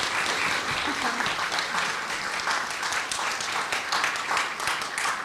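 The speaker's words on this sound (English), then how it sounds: "Ladies and gentlemen, please a big round of applause for Mrs." An audience at a keynote on women in communication applauds Ann Vasquez, the clapping thick and continuous from start to finish, with faint murmurs mixed into the crowd noise.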